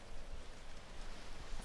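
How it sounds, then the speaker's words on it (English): Steady soft rainfall during a thunderstorm, a constant hiss of drops on a surface, fairly quiet and continuous with no voices. "and listen to the rain"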